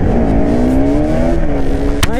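A Bajaj Pulsar RS200 motorcycle pulls away hard in a roadside drag race, its engine note rising steadily as it accelerates, loud and close, with wind noise and a sharp transient near the end.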